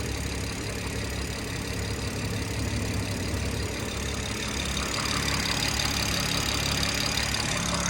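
A BMW B58 single-turbo engine idles steadily and loudly up close, a constant low rumble with a faint mechanical knock and no voices, the turbo burning off excess oil.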